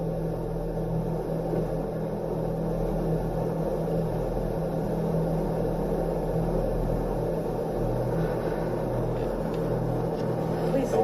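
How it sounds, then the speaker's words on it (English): A car driving, recorded from inside by its dashcam, gives a steady low rumble of engine and road noise that holds evenly throughout with no clear change in pace. "As the car continues moving"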